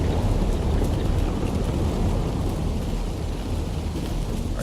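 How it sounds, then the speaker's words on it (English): Heavy rain in The Division 2 video game pours steadily with a dense, low rumbling roar, continuous and loud throughout, with no voices. "that rain is really coming down"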